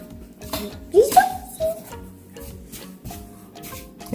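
Blue-coloured liquid being stirred in a container for a rainbow fizz activity produces a few bright clinks and knocks of a utensil against the vessel, close by, with a voice and other chatter alongside.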